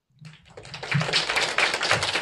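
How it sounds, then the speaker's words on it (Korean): Audience applause at a national poetry recitation contest of a Korean arts federation, scattered claps quickly swelling into steady, moderately loud clapping from a seated crowd. "따뜻한 박수 부탁드립니다"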